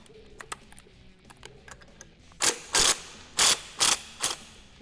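A bolt puller draws the flywheel off a Honda XR650R engine: light scattered metallic ticks and taps, then five loud, close ratcheting bursts in quick succession.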